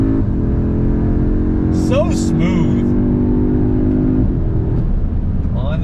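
A 2022 Audi S3 with an inline five turbocharged engine pulls away in first gear, its steady low engine drone loud and close inside the cabin under a man's speech.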